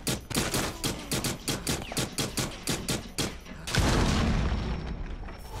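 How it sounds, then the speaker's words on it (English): A rapid, evenly spaced volley of loud gunshots in Rainbow Six Siege ends in a heavy, sustained explosion boom that rumbles and fades with a lingering tail. "Something just blew up"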